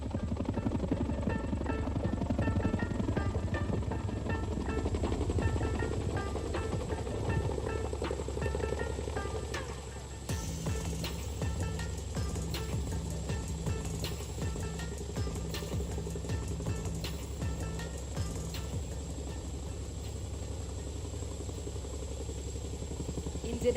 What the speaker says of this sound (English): And now you can see both the Chinooks are facing each other to perform its next maneuver.